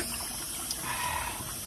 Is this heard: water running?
yes